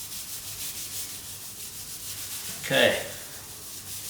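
Hands rubbing seasoning into the skin of a pork belly being prepared for the air fryer, a brief soft rubbing burst standing out over a faint steady background hiss, with a quick spoken word at the start.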